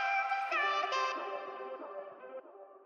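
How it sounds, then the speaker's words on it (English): A sound processed in FL Studio through a half-delay effect, heard as a harmonic, tonal tone whose echoing repeats trail off gradually across about three seconds, with no talking. "We used a half delay and it sounds like this."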